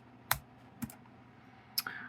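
A few sharp, sparse keystrokes on a computer keyboard while logging Lego order inventory, three or four separate clicks spaced irregularly and fairly faint, with no talking.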